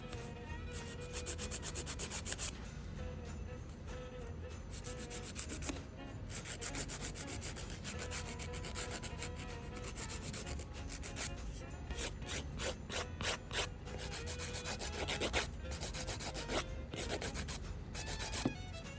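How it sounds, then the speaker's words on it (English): A nail file rubs back and forth over a gel nail in quick, steady strokes, producing a soft, close scratchy rasp that pauses briefly now and then, with no talking. "we're gonna go back in and file it some more."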